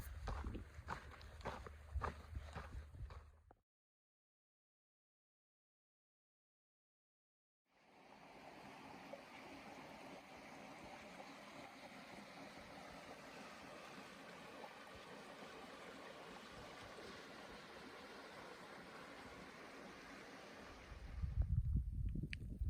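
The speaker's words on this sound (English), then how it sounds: "First flowing water I've seen for 40 miles though." Flowing water of a stream along the Guadalupe Ridge Trail near the Sitting Bull Falls loop, a steady close rush running for about thirteen seconds after a stretch of silence, with brief footsteps or handling noise at the start and end.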